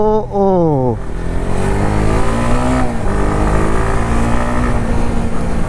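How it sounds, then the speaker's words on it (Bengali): A 2021 Honda CBR 150R motorcycle with dual-channel ABS revs hard at the start, its engine pitch climbing and falling in quick sweeps, then settling into a loud steady idle close by, with no talking. "কোনো একটা বাইকের সাথে এই বাইকের এক্সস্ট নোটের সাউন্ডটা কিছুটা"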